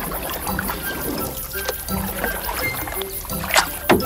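A boat moves across water in an animated fairy tale, with soft continuous sloshing and lapping, a few light splashes and faint creaks at a moderate distance.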